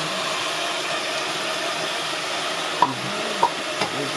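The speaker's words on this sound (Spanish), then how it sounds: "Qué lindo suena ese caldero." Food sizzles softly in a caldero cooking pot in a rural kitchen, a steady low hiss and crackle with a few faint clinks.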